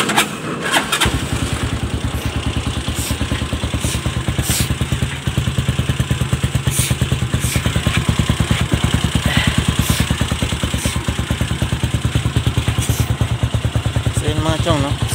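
A Rusi 150 motorcycle fitted with a touring cam starts up after a brief crank, then settles into a loud, steady idle with a fast, even putter and faint ticking.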